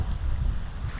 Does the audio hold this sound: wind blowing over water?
yes